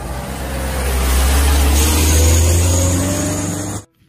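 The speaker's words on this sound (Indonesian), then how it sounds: "Wow, lihat, ada mobil truk oleng" Loud, steady engine drone of a swaying mining dump truck, with a heavy low rumble holding close and constant for several seconds before it cuts off abruptly.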